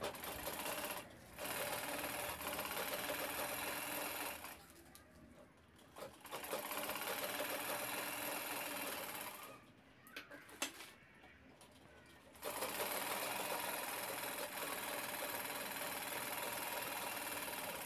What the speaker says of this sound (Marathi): इथे बॅग उलटवून दोन्ही साईड शिवून घ्यायचे आहेत